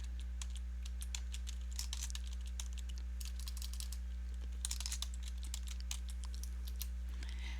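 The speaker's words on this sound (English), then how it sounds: "I'm going to type it in for you." Steady typing on a computer keyboard: quick, light key clicks in an irregular run over a constant low electrical hum, close to the listener, with no talking.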